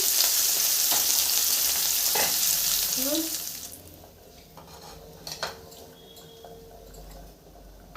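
Katla fish pieces fry in hot oil, a loud broadband sizzle filling the first few seconds with a few utensil clinks, then fading to a quieter, intermittent crackle.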